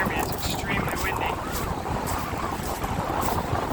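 Strong wind on a Cape Cod ocean beach roars and buffets close against the microphone in a constant rush, with a person talking underneath.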